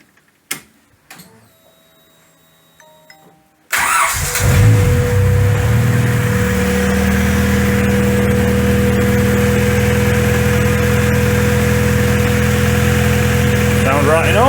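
A car engine cranks and catches on its first start after an engine mount refit, then settles into a loud, steady idle with a low throbbing hum. A few clicks and clunks come before it fires.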